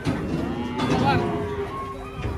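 A cow on a farm gives a long, loud, drawn-out moo close by, with a tone that rises and falls, over some faint background noise.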